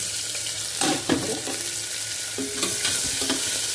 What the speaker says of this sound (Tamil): நல்லா கொஞ்சம் செவக்க வறுக்கலாம்